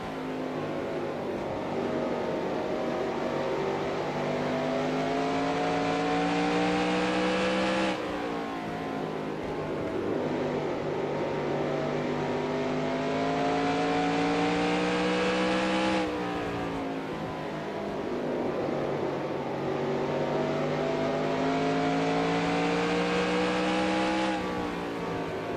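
A race car engine in the NASCAR Racing 2003 video game at Bristol, 1992 Winston Cup season, during pit stop practice, revs up repeatedly in long rising sweeps, dropping off and climbing again in three cycles, loud and steady with no talking.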